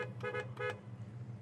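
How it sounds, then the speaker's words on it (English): A 1968 Chevrolet Chevelle SS horn sounds two short, close toots in quick succession over a steady low engine idle. "Inside our 68 Chevelle, horn,"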